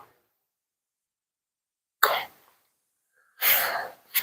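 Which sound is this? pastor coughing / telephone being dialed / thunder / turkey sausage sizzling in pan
pastor coughing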